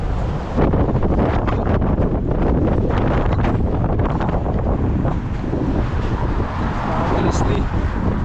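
Strong, cold wind in Canada buffets the microphone in a constant rough roar, with no clear voices above it.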